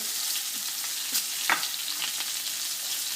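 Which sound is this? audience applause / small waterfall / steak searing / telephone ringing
steak searing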